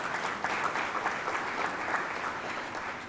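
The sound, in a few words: audience applause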